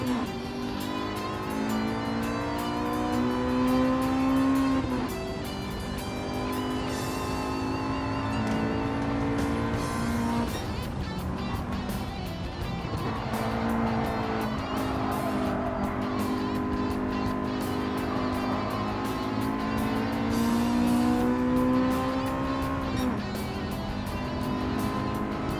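Gran Turismo 7 race car engine droning steadily and rising as it accelerates on track, with shifting revs and faint tire noise throughout, loud and continuous, with a voice talking over it at times.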